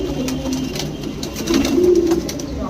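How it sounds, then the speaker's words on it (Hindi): Punjabi and Madrasi breed pigeons coo softly in a loft, a low steady murmur that swells slightly toward the end, with no talking over it. "ये देखिए पंजाबी कबूतर"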